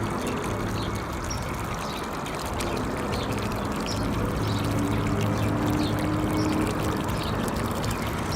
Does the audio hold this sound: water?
yes